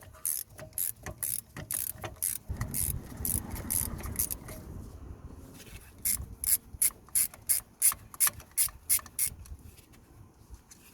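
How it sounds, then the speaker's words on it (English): Ratchet clicking as a 4mm hex bit undoes the electronic handbrake motor bolts on a Kia Ceed rear brake, rapid mechanical clicks in bursts with a steadier run of separate clicks later, close up. "we're going to use a 4mm hex bit to undo the handbrake motor"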